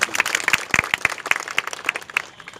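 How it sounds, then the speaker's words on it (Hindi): Scattered, fairly sparse clapping from an audience at a public gathering about a people's court, irregular individual claps, moderately faint, rather than a full ovation. "आप लोगों को जोरदार तालियों से स्वागत करना चाहिए उनका।"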